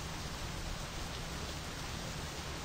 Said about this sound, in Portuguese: Vou esperar a chuva passar, né,